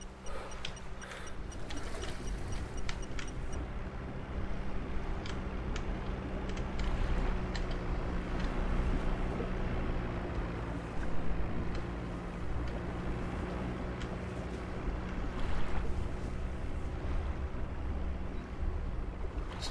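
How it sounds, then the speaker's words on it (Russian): An enemy motor boat in Sniper Ghost Warrior 2 moves past with a steady, low engine drone. It stays fairly quiet and distant, with wind noise and faint ticking behind it throughout. "Приближается катер врага."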